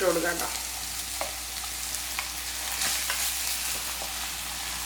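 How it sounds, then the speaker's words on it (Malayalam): Chopped vegetables for samosa filling fry in hot oil in a kadai, a steady loud sizzle with scraping stir strokes, a brief voice at the start. "എണ്ണ ചൂടായിട്ട് വരുമ്പോൾ ഇതിലേക്ക് നമുക്ക് നമ്മൾ നേരത്തെ മുറിച്ച് വെച്ച വെജിറ്റബിൾസ് എല്ലാം കൂടെ ഇട്ട്"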